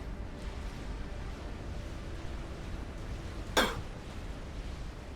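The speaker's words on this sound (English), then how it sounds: "Sorry about that cough." A single brief, sharp cough rises once out of a quiet background hum.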